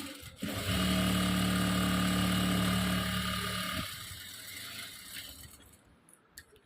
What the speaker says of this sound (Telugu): ఇప్పుడు మూడో కుట్ట వేస్తున్నాను